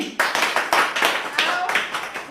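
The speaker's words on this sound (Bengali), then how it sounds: "চলো সুমির জন্য জোরে হাততালি" Loud, quick hand clapping for Sumi at a bottle-flip party game, arriving in repeated close bursts across the whole moment with voices mixed in.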